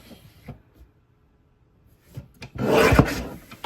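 Craft paper is cut on a paper trimmer: faint taps, then a short, loud, rasping slide of the blade through the sheet.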